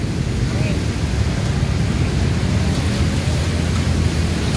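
Steady soft hiss of light rain drizzle filling the background, constant and even throughout with a low rumble underneath.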